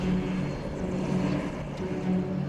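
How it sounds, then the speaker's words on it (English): Steady, droning propeller-engine hum of a Ryan Navion light plane, a constant loud whir with a faint harmonic whine, heard alone throughout. "packed up his legendary Ryan Navian fighter plane and departed for New Brunswick"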